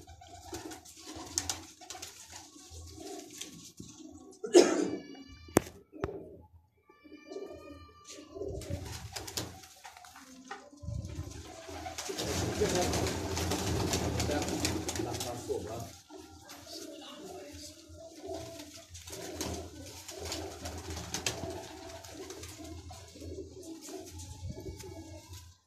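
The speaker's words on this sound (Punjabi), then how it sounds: "ਇਹ ਸਲੇਟਾ ਕਬੂਤਰ ਹੈ" Grey pigeons kept by a Lahore pigeon fancier coo in soft repeated bursts nearby, with other bird calls scattered through and someone talking over them at times.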